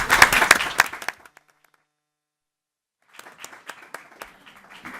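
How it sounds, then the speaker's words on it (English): A burst of audience applause at a League of Women Voters local history meeting fades out into a brief silence, then lighter scattered clapping resumes. "I'd like to take this opportunity to give them a round of applause."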